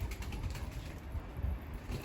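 Smoky Mardin pigeons in a coop make a steady, low, rumbling coo close by, with muffled scuffling as someone struggles to catch one of the birds.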